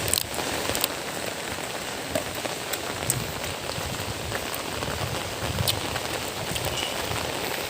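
Rain from an approaching typhoon falling steadily on surfaces, a dense continuous patter with occasional louder drips and knocks, no voices heard.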